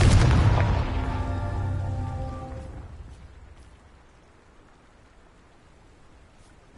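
A Confringo blasting spell goes off in Hogwarts Legacy: one loud booming explosion with a resonant ringing tail. The tail fades over about three seconds into a quiet background.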